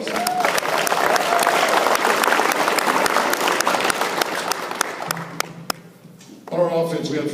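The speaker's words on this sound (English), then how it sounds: "Give those all those guys a big round of applause." A banquet crowd at a high school football awards event claps in sustained, dense applause. The clapping fades out, and a voice then speaks over a hall microphone.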